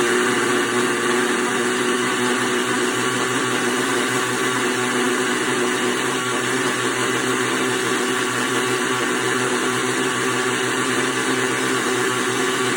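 A kitchen blender runs continuously and loudly, a steady whirring motor grinding an animal cracker milkshake for over twelve seconds without pause.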